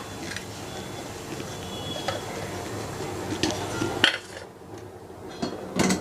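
Metal idli steamer plates clink and clatter as they are handled in a kitchen, a few light knocks and rattles at close range, including a sharper clang partway through.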